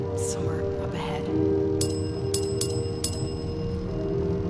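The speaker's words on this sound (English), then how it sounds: "I just wanted to hit that bell." Bell struck several times in the game Close To The Sun, four clear metallic rings in a row after a stretch of someone talking, sounding over a steady low hum.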